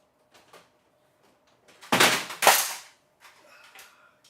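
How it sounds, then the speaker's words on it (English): A Commodore computer keyboard falls off because its clips did not latch, giving a loud clattering crash of two quick heavy impacts close by, with faint knocks before and after. "that was the sound of the keyboard falling off because the clips didn't latch"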